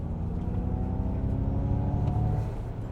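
A Mustang Mach-E GT PE electric all-wheel-drive car accelerating hard from a standstill with front wheel spin, giving a loud steady rising motor whine and tire roar close by that continues for the whole stretch.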